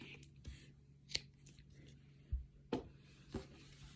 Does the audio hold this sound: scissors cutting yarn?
yes